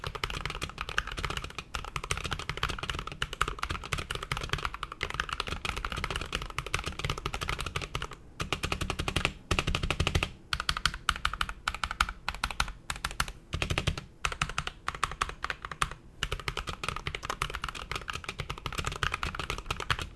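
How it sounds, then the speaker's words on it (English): Fast, steady typing on a Corsair K65 Plus wireless gaming keyboard, with dense close-up key clicks and clacks and brief pauses between bursts. "So here's what it sounds like to type on the keyboard."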